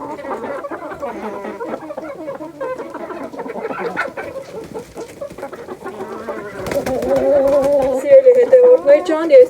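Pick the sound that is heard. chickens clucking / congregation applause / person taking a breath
chickens clucking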